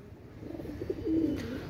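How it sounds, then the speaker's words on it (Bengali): Oman Teddy pigeons give a short, soft throaty coo at close range, a single rolling call rising briefly over a quiet background. "ওমান টেডি কবুতর"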